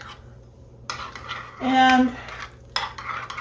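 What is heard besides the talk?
stirring sugar, cinnamon and nutmeg topping in a bowl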